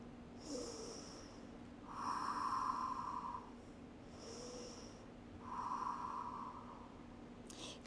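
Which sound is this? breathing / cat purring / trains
breathing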